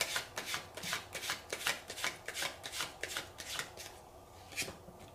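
Tarot cards shuffled by hand, a rapid run of crisp riffling bursts repeating steadily and up close, easing off toward the end with no voices.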